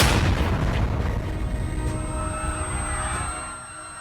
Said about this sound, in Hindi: अचानक एक मोटरसाइकिल पर बंधे बम ने जोरदार धमाका कर दिया।